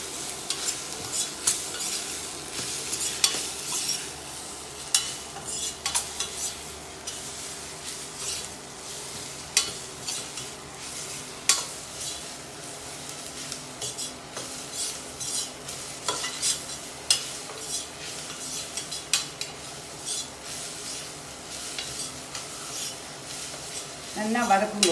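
Mint leaves and tomato sautéed together in a pan for tomato soup, a soft continuous sizzle with frequent scraping stirs of a spatula, close by, with a voice talking at moments throughout.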